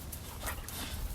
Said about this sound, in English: now dog is here